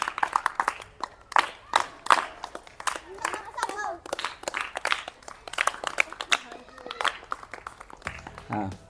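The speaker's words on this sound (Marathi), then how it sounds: "टाळ्यांचा आवाज आला पाहिजे जोरात." Children clap their hands during a school quiz game, with bursts of sharp claps mixed with children's and adults' voices talking over them.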